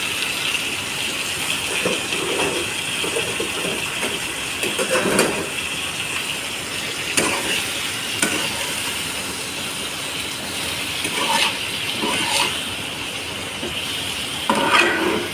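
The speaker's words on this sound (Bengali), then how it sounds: "টমেটোগুলো একটু নেড়ে নুন হলুদ দিয়ে ঢাকা দিয়ে দেবো" Chopped tomatoes with salt and turmeric, cooking for a sweet tomato chutney, are stirred in a pan with repeated scraping strokes over a steady, fairly loud sizzle and hiss.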